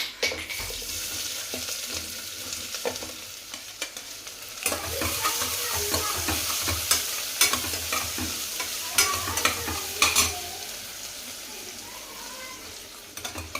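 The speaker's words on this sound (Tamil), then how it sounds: "எண்ணெயில் போடு கட் பண்ணி வச்சுருக்க வெங்காயம் சேர்த்துக்கலாம்" Chopped onions fry in oil with whole garam masala in a home kitchen pan, a continuous sizzle broken by repeated stirring scrapes and clatters, close and fairly loud.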